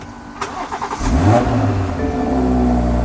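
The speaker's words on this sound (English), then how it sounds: "It's the startup or the cold start of the car" A car engine cold start: it cranks briefly with a few rhythmic starter pulses, then catches and roars up into a loud, high idle; close and with no talking.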